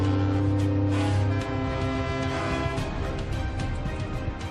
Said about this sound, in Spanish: Los barcos del equipo de salvamento lo celebran tocando sus bocinas.